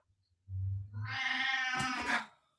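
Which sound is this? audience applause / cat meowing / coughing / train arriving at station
cat meowing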